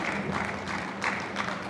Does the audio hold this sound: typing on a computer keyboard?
no